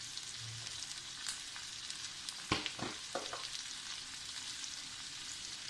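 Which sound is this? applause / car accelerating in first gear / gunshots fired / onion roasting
onion roasting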